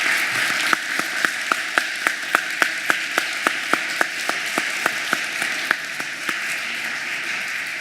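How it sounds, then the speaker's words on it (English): Applause for the 2019 graduates at a St. Monica Catholic School ceremony, a dense wash of crowd clapping with a rhythmic series of sharp, evenly spaced claps standing out over it. "Please give another round of applause to our 2019 graduates of St. Monica School."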